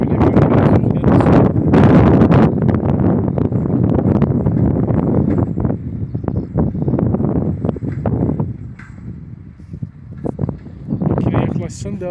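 Heavy wind buffets the microphone with a loud, constant rumble, while someone talks underneath it outdoors in a crop field.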